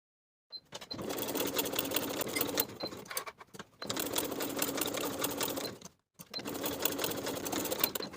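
A sewing machine bastes the sides and bottom edge of a weekender bag panel in three runs of fast, steady whirring stitches, each separated by brief pauses.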